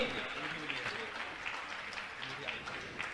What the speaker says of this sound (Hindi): जोरदार ताली बजाएं उनके लिए।